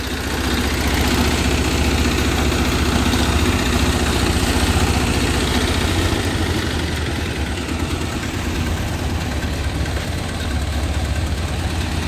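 A small Yanmar diesel engine on a mini tiller runs steadily at idle, a continuous low chugging rumble with a rough knocking texture, close by and with no voices.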